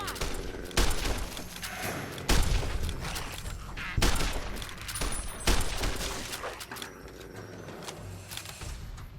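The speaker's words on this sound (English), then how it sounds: "I need to start shooting animals." Rifle shots in Fallout: New Vegas, several sharp cracks spaced a second or two apart over a steady game background, loud and close.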